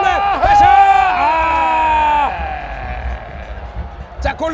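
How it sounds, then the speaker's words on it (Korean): Football fans in a K League 2 stadium match between FC Anyang and Suwon Samsung roar with applause and shouting. The crowd noise is loud and sustained, with an excited vocal rise near the start and talk layered over it. "팬 여러분들의 열렬 박수와 함성"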